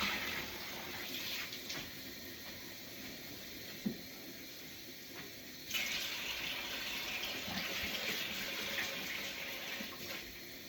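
Tap water runs into a glass fermenting container in a kitchen sink while it is rinsed out, a steady splashing stream that grows louder and fuller partway through, with a brief knock.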